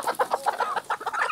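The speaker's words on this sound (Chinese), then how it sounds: "我们先放母鸡" Hens on a farm cluck in quick, uneven bursts as they are let out, several close-up calls overlapping in a busy, agitated rhythm with no talk over them.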